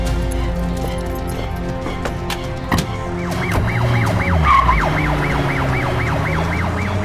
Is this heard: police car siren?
yes